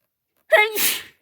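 A single sneeze from a person with hay fever, close and loud: a sharp voiced inhale rising into a breathy, explosive burst lasting under a second, with silence before it.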